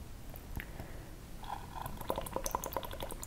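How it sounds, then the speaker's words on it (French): Bubbles blown steadily through a straw into water, a soft bubbling that turns into a regular run of distinct gurgling pops in the second half, close and fairly quiet with no talking. "vous essayez de gérer le flux d'air, donc d'avoir des bulles plutôt régulières"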